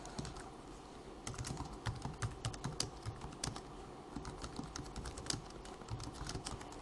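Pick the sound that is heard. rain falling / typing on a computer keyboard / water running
typing on a computer keyboard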